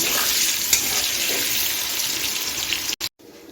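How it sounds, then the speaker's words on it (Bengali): Potatoes coated with salt and turmeric frying in oil, a loud continuous hiss and sizzle that cuts off abruptly near the end. "আলুটা আমি লাল করে ভেজে নেব"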